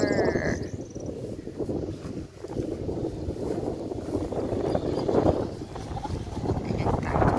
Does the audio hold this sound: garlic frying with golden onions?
no